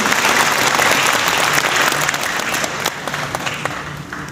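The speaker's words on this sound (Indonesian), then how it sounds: "Tepuk tangan buat Indonesia." Audience applause for Indonesia fills a gathering at an Islamic religious lecture, a dense, steady clapping from a large crowd that holds loud and continuous before easing slightly toward the end.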